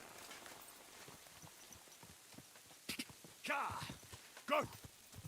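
Horse hooves clatter through woods in the video game Kingdom Come Deliverance 2, a quiet rhythmic clip-clop with a few louder thuds and crashes toward the end, under a man's speech.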